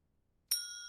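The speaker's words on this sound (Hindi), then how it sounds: "यही पुरानी घंटी बजाती थी" An old household bell rung to call the family to dinner gives a single clear ding after a moment of silence, its bright metallic tones ringing on and slowly fading.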